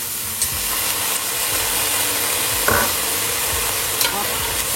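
Fish curry sizzles and hisses in a pan just after soy sauce is poured in, a steady close frying crackle with a few brief stirring scrapes and clinks.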